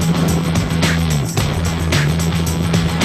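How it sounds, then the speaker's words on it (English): A Nissan Navara rally truck in the production vehicle category races at close range, its engine droning steadily with low harmonic tones that waver as it works through gears, over continuous gravel and road noise. "Terence Marsh and Bix Carolyn found themselves leading the production vehicle category in the Regent Racing Nissan Navara."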